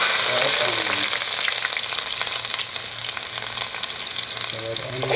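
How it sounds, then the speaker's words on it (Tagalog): Red onion sautéing in hot oil as the first step of a chicken sotanghon, a steady, close, continuous sizzle with light stirring scrapes throughout and no talking. "So, mga kabosyo, magigisa na tayo. So, unahin natin ay ang red onion."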